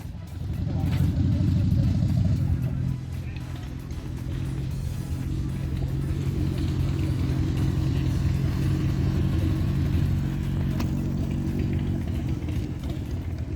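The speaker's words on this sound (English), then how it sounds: "I've got the 600, but that's why I took the exhaust off, so it sounds like something else." A 600 motorcycle with its exhaust removed rumbles and revs loudly nearby at a charity toy run convoy, a steady raw engine drone with other traffic around.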